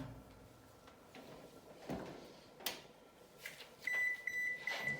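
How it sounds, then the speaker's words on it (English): Kitchen oven being loaded with chimichangas: a door thuds and clatters shut amid soft handling noises, then a short series of electronic timer beeps, all fairly faint and close with no talking. "So I'm just going to put these in the oven."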